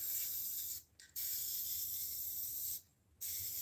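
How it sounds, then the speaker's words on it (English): Adhesive sprayed onto a vinyl tire cover: a steady, close, loud aerosol hiss broken by two short pauses, with no talk. "Spray that thing one more time."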